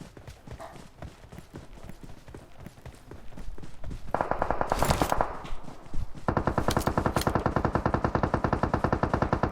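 Rapid bursts of gunfire in PUBG Mobile rattle continuously, growing louder and denser midway into sustained automatic fire with a mechanical, game-like quality.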